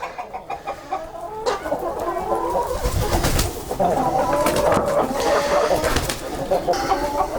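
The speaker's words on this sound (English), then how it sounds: "I do have some roosters in here, and there's a lot of birds in here," Barred Rock and Cochin chickens with roosters in a farm coop cluck and murmur continuously at close range, overlapping calls rising and falling with occasional louder squawks.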